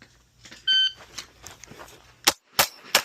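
A shot timer beeps at the start of a shooting competition stage, a short loud electronic tone, followed moments later by three sharp, loud pistol shots from a Walther PDP spaced about a third of a second apart.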